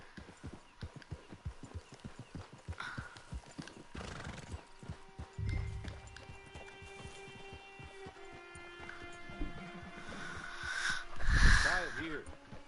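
A horse whinnies loudly and snorts in Red Dead Redemption 2, with clip-clop hoofbeats, close and clear, a long neigh rising near the end over game ambience and faint voices.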